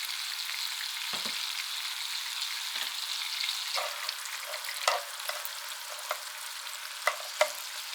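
Garlic sizzling steadily in a hot pan, a constant soft frying hiss with a few sharp spits and clinks of a utensil, no voices.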